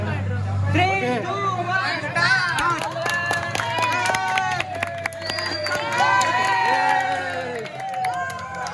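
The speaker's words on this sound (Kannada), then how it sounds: "ಚಪ್ಪಾಳೆ." A dense crowd of students at a college freshers day cheers, shouts and claps continuously at close range, with many voices overlapping throughout.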